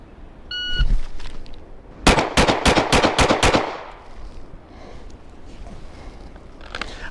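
A shot timer beeps once, then a handgun fires a fast string of about half a dozen loud, evenly spaced shots in a timed draw drill, with echoes and ambient noise trailing afterward.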